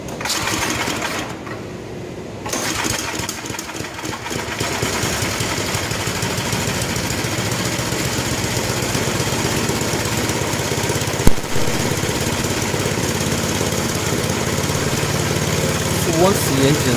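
Estate by Murray 8/27 dual stage snow blower engine running steadily, loud and close, a continuous buzzy drone with one brief knock partway through.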